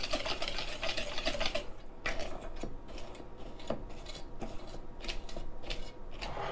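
Dry ingredients being whisked together in a bowl for a skillet lava cake, a quick run of light rhythmic clicking and scraping strokes close by, fairly quiet with no talk.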